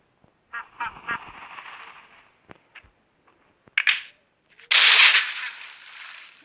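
Several short creature squawks and clicks in the video game Survivalcraft 2 as a bird is hit, ending in a loud, harsh honking cry that trails off, with no talk.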